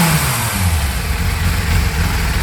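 A Yamaha YZF 600 Thundercat motorcycle fitted with a Micron exhaust revs up close, its loud engine roar rising and falling without a break and with no voices.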